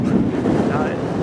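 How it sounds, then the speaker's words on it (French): Cold wind gusts over a sailboat during a pro-am race on the Albatros course, a loud steady rumble buffeting the microphone close up, with a voice faintly mixed in. "c'est le vent qui fait baisser le ressenti et qui complexifie le jeu."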